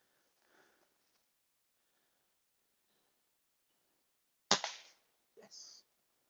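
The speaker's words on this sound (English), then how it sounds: "So Paul's turn with the air rifle now" An air rifle fires once, unsupported, at a target in woodland, a sharp near crack followed a moment later by a short duller knock, after near silence with faint background sound.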